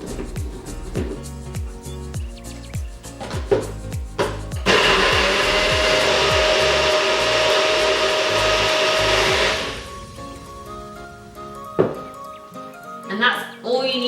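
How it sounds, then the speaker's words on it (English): Blender whirs steadily for about five seconds, pureeing a soup of vegetables, vegetable stock and coconut milk. Kitchen clatter and speech come before and after. "And blend it up."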